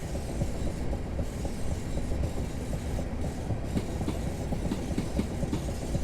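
A Class 465 electric train running on the Chatham Main Line between London and Gillingham in Train Simulator 2018: constant rolling rumble with rhythmic clickety-clack of wheels over rail joints, steady and fairly loud.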